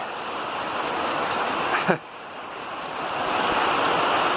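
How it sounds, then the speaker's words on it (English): Rainwater running in a small stream outdoors during a rain storm, a continuous broadband wash with wind noise, a brief rising whistle-like sound near the middle, then a short dip before the flow swells again. "You can see it's starting a little river out there."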